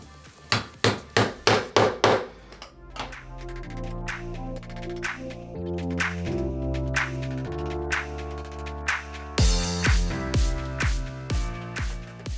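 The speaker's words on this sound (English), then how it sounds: "get my multi-tool painter's tool, and I'm gonna go around this just with a little tap" Sharp rapid taps of a metal multi-tool painter's tool around the edge of a bathroom sink, loud and close, in quick bursts separated by quieter scraping and knocking.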